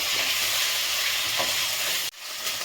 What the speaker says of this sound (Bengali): চিকেনটাকে হালকা ফ্রাই করে আমি তুলে নেবো, বেশি না।